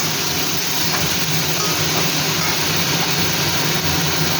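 Elephant foot yam and potato frying in a pan, a loud steady sizzling hiss that holds unbroken throughout, with no talking.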